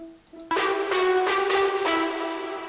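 A distorted pizzicato string pluck rings out heavily buzzy, followed by a few more gritty plucks that sustain and slowly fade.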